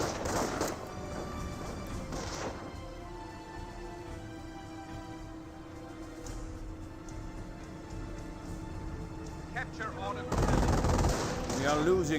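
Bursts of gunfire from Panzer Grenadiers firing at anti-tank guns and a Hetzer in the World War II strategy game Company of Heroes. The rattle is continuous, with louder volleys at the start and end and faint background voices.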